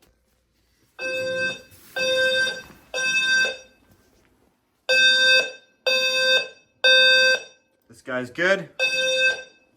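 A home fire alarm system under test sounds repeated loud, harsh electronic blasts in a pulsing pattern of roughly one-second bursts, with a short spoken remark briefly overlapping one of the tones.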